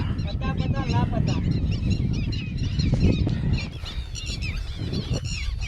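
A flock of birds honks and calls loudly and continuously nearby at Dharoi Dam, overlapping cries with a faint murmur of voices underneath.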